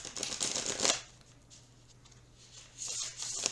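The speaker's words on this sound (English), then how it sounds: "shuffles hand over hand nicely, riffle shuffles nicely" Tarot cards being shuffled up close: a crisp burst of riffling, a brief quiet pause, then another flurry of shuffling toward the end.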